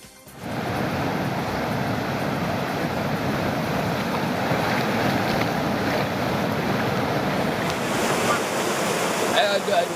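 Floodwater pouring over a submerged stream bridge in a village during heavy rain, a dense, continuous roar of rushing water with wind buffeting the microphone throughout.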